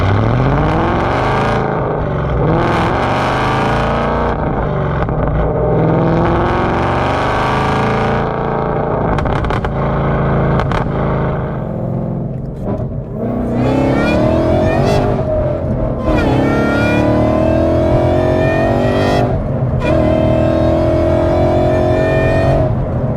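An 862bhp supercharged Mustang GT roars hard under repeated acceleration, its engine note rising and falling through gear changes with raspy, distorted intensity, loud and close throughout.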